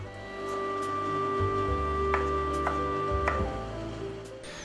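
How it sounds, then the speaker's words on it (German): A knife chops cooled green asparagus into bite-sized pieces on a cutting board, giving a few distinct sharp taps over a steady hum of kitchen background noise. "Mittlerweile hat der Spargel sich jetzt auch schon abgekühlt und wir können ihn in mundgerechte Stücke schneiden."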